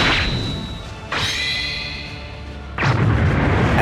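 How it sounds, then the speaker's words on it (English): An explosion erupts in the distance in a Dragon Ball animation: three loud booming blasts hit in turn, each rolling out into a long, fading rumble. "an explosion erupts in the distance"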